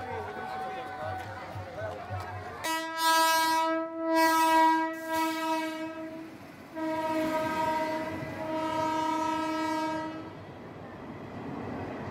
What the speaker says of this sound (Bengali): গোপীনাথপুর স্টেশনে প্রথম ট্রেন